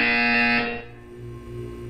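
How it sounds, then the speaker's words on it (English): A loud electronic buzzer from the Portal 2 video game's wellness exercise drones for just over half a second, then cuts off and leaves a quiet tonal hum. "When you hear the buzzer, look down at the floor."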